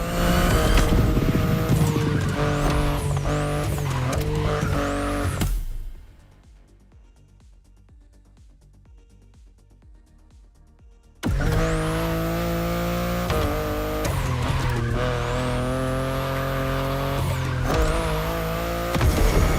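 BMW i8 in the racing game The Crew Motorfest, loud sustained engine drone with tire squeal, cutting out to near silence midway before the engine roars back at full volume.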